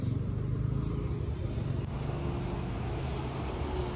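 A car arriving, its engine giving a steady low rumble that holds throughout at moderate distance, with no clear talk over it.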